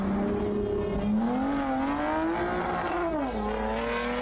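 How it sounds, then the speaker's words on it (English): A Toyota Camry with a 180-horsepower engine accelerates at wide open throttle, its engine note climbing in a loud continuous rise, briefly dipping at a shift and rising again. "Wide open throttle, 180 horsepower, full send down the road."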